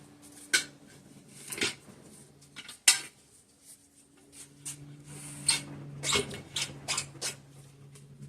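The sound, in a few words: tire spoon levering a car tire bead over a Goldwing rim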